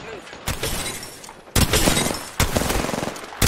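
Gunshots in the video game PUBS, close sharp bursts of rapid automatic fire arriving in several loud volleys with brief gaps between them.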